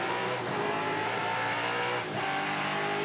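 A touring car at Hidden Valley raceway revs hard through its gear shifts, the engine note loud and continuous from on board, dipping briefly at a change before climbing again.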